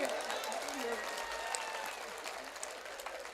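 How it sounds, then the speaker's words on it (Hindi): Applause rises from the audience at a Hindi poetry gathering (kavi sammelan), a faint, steady wash of many hands that continues throughout, with a voice heard briefly at the start. "ताली बजाइए, अच्छा लगता हो तो भाई।"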